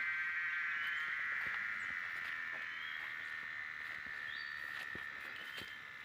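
Continuous shrill buzzing of a cicada drones on without a break, slowly fading slightly, with faint scattered taps and clicks in the background, beside a muddy jungle road in rainy season.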